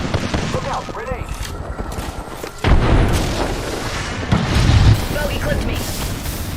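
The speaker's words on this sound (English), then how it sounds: "Look out, grenade." In a Valorant match between Vision Strikers and Cloud9, a grenade explodes with a sudden loud boom partway through, thick with gunfire and voices talking around it, and a second heavy burst follows soon after.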